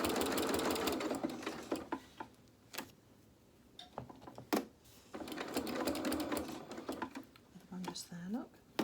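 A sewing machine runs a running stitch through a fabric advent calendar quilt in several rapid, rattling bursts separated by short pauses, with a voice at times.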